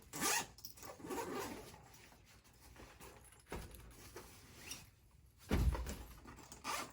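A backpack being unzipped and unloaded: several quick zipper pulls close to the mic, mixed with fabric rustling and soft handling thuds, no talk.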